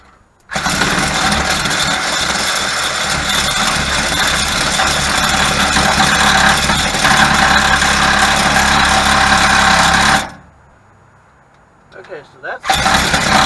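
A power saw cuts through the exhaust hanger on a 1983 Chevrolet S10 truck, a loud continuous grinding whine running for about ten seconds before stopping, followed by brief quiet and a short burst of cutting again.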